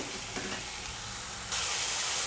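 Onion and tomato sauté in a pan for a potato and pea curry, giving a soft continuous sizzle that turns noticeably louder and brighter partway through.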